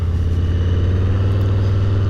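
A Harley-Davidson motorcycle engine pulls away and accelerates, a loud close low rumble with a throbbing exhaust pulse that rises slightly in pitch.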